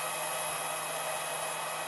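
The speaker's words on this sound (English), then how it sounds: "I think it's a little bit quieter than the fan on the T8." Cooling fan of an ISDT T6 Lite 600W smart DC charger running steadily, a continuous broadband whir with a faint low hum, close and even throughout with no other sounds.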